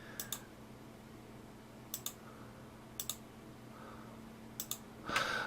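Sharp mouse clicks come in quick pairs, four double-clicks spaced about a second apart while control-clicking selections at a computer, over a steady low hum, with a brief rustle near the end.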